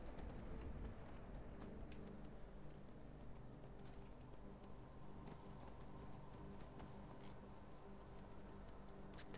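A horse's hooves clip-clop steadily along in Skyrim, a soft and continuous trotting under a low, constant game background with no talking.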